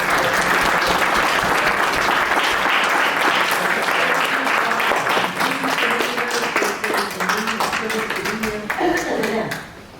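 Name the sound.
round of applause for veterans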